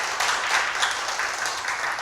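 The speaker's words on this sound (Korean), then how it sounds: "큰 박수 부탁드리겠습니다." An audience at a community forum in Gwangju, Gyeonggi-do applauds, a dense, even wash of clapping that holds steady for a couple of seconds.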